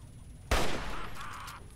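Gunfire in the Fallout 3 video game: after a quiet moment, a single loud shot bursts out, followed by a rumbling tail that fades over about a second.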